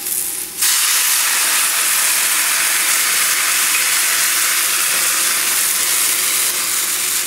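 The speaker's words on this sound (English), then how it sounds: "So we'll add the wine." Wine poured into a hot pan for a mushroom garlic butter spread sets off a loud, steady sizzle and hiss that begins abruptly after a brief quiet moment and holds evenly throughout.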